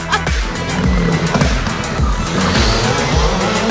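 A rally car races fast through a small village at the Rallye des Vosges Grand Est 2019, its engine roaring loud and close through rapid gear changes, with tire squeal and skidding and no talk.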